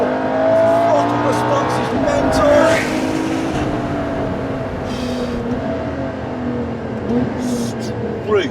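A Ferrari LaFerrari's 950bhp V12 hybrid engine pulls hard in fourth gear from inside the cabin, its tone rising steadily over a constant road roar, with some speech underneath.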